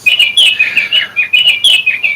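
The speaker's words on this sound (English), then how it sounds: "And there goes that bird again, and it's just, it's the clock" A wall clock marks the hour with a recorded bird call, giving a close series of bright, repeated chirps and tweets in quick, uneven bursts, heard alone in a quiet room.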